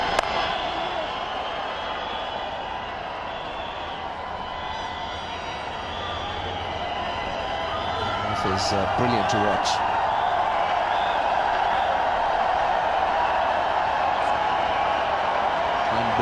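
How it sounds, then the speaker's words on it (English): A massive crowd at a cricket stadium for a 2007 India vs Australia one-day international roars and buzzes steadily, swelling louder midway, while a commentator speaks over it. "It's been a massive crowd. They're making a lot of noise"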